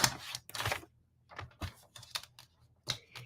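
Designer series paper is cut in half with a run of short, dry, crisp cuts and slices in uneven bursts, close up and with no talking.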